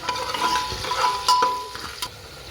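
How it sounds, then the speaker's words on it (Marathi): Chopped onions sauté with a little salt in a pan for matar pulao, giving a steady close sizzle broken by several soft scrapes and knocks of a stirring spoon, with no talking. "कांदा चांगला लाल होईपर्यंत परतून घ्यायचा"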